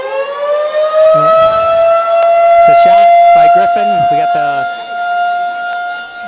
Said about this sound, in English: if you can hear the sirens going off, that's a test of the sirens.